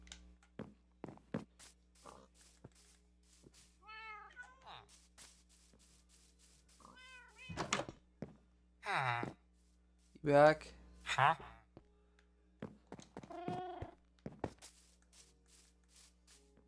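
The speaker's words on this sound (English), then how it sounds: "Took 10 freaking fish to tame this one cat." Tamed cat meowing in the video game Minecraft, several short synthetic meows and merps at a steady volume, heard between stretches of casual talk over a faint background hum.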